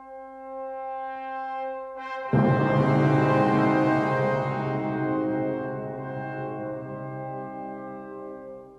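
An orchestra plays a Verdi opera curse motif, swelling in with a sudden loud chord over a sustained low drone, then the sound holds and slowly fades, dark and ominous.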